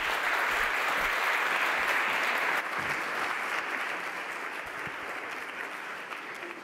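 An audience applauds steadily to welcome Svenja Schulze, Federal Minister for Economic Cooperation and Development, onto the stage at a global partnerships event. The dense clapping runs throughout and eases slightly toward the end, with no talking over it.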